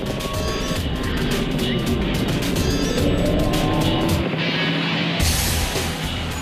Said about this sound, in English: the BMW M3 GT overtakes the Ferrari